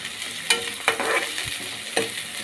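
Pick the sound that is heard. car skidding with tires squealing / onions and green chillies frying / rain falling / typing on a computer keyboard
onions and green chillies frying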